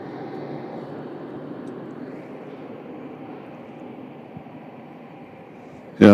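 A Boeing 767 airliner bound for Miami hums and whines at Louisville International Airport, a steady moderate engine roar that shifts pitch partway through and ends in a sudden sharp burst of noise.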